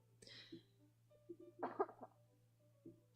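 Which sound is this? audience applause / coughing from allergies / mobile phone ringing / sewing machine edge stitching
coughing from allergies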